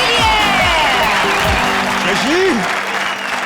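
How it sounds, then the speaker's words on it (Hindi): A studio audience of a Comedy Circus TV comedy show applauds Krishna and Sudesh: loud, dense, steady clapping across the clip, with musical sound-effect tones and swoops layered over it, easing slightly near the end. "तालियां कृष्णा और सुदेश के लिए।"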